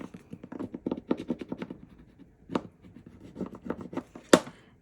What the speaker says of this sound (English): Rub over that.